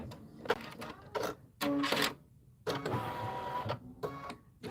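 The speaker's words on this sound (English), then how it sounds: "your needle's not going through two as it's doing all this stitching" An embroidery machine stitches a rope bowl in the hoop, making quiet, uneven bursts of rapid mechanical needle clatter with short pauses between runs.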